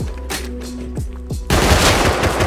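Gunfire in the video game Rust: several loud, punchy single shots ring out with echoing tails, then a dense burst of rapid automatic fire follows, all close and with no talking.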